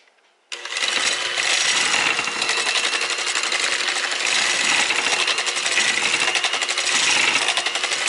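An electric mixer beats lemon lime cheesecake batter with eggs, a loud steady whirring that starts abruptly and runs continuously with a rattling, buzzy texture and no talking.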